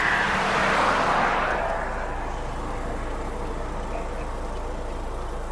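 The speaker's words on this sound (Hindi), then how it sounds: "गाड़ी स्टार्ट है बे।" A car engine idles steadily on a road trip, a constant low rumble that holds evenly throughout, with a brief wash of louder broadband noise at the start before it settles.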